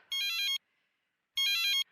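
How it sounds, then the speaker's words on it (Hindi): A synthetic phone ringtone plays two short, bright bursts of tones separated by a pause, loud and close. "अरे भैया, किसका फोन आ गया?"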